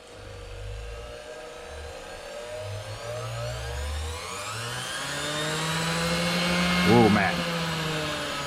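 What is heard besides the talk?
Hoteche bench grinder motor running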